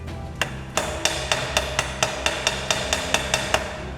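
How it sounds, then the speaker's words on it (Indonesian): A welding chipping hammer taps slag off a fresh weld, about a dozen sharp metallic strikes at a steady quick rhythm, close and alone over a constant workshop hum. "Jadi setelah dilas kita ketuk-ketuk menggunakan palu las."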